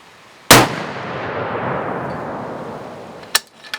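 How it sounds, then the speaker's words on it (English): A .45 caliber gun loaded with smokeless powder and very loose-fitting bullets fires a single loud, sharp shot with hard recoil. The report rings out and decays slowly, followed near the end by a few brief metallic clicks and rattles. "Now you guys can pay attention to the recoil on this gun."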